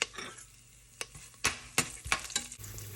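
Green chillies and curry leaves dropped into hot oil in a cooker, giving a soft ongoing sizzle broken by several sharp crackling bursts and light stirring clinks, close by, with no one speaking.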